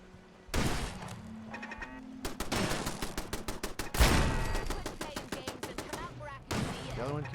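Rapid bursts of automated turret gunfire in the video game Fallout 4, repeated volleys of sharp shots with short pauses between, loud and close throughout with a heavy impact near the middle.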